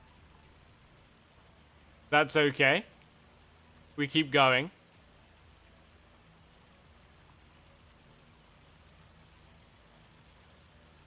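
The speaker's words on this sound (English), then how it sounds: "I think it's hailing." Hail falls in Farming Simulator 25 as a soft, constant patter and hiss spread evenly underneath, while someone speaks two brief phrases over it.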